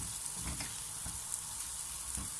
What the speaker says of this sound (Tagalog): igigisa muna natin ang ating sibuyas